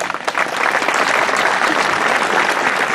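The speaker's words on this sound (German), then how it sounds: "Applaus" A crowd applauds at the Kronenfest festival gathering in Augsburg, with dense, continuous clapping from many hands that stays fairly loud and even throughout.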